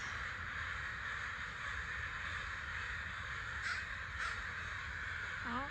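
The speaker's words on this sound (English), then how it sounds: "Those are crows making the noise, so I guess it's the murder making noise." A flock of crows caws steadily and fairly loudly, with two sharper calls standing out near the end against a constant background wash.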